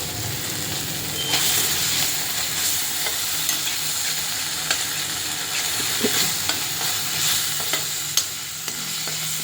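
Ginger garlic paste fries in oil in a triply kadai with a steady close sizzle, broken by repeated sharp clinks and scrapes of a spoon stirring, and no talk.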